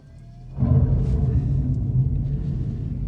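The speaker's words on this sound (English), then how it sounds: "It sounds like thunder has erupted from the rear axle when you push the startup button on this Charger Daytona" A Dodge Charger Daytona electric car's startup with its fake exhaust sound: a sudden loud, deep thunderous rumble that kicks in and holds steady, close by.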